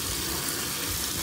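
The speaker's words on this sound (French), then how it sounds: "Alors là, il faut vraiment le rincer" A chili pepper is rinsed under running tap water, a brief, steady, close splashing rush with no talking.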